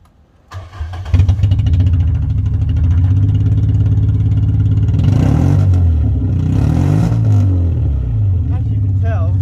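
A Mk3 Volkswagen Golf GTI engine cranks, catches and settles into a rough, uneven idle with a wavering low drone, close and loud, with a person speaking over it.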